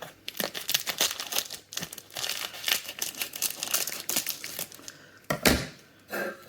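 Plastic packaging on a medium Irish beef roasting joint being cut open, close crinkling and tearing of plastic film in quick irregular bursts, with a couple of sharper rips near the end.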